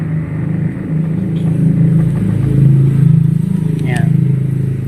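Road traffic rumbles past beside a garage gate at the roadside, a steady low drone of cars and a motorcycle swelling and fading, with occasional faint clatter.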